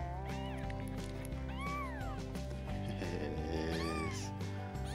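A newborn kitten meows repeatedly at feeding time, rising and falling cries up close over a steady background hum, with a few sharper calls near the end.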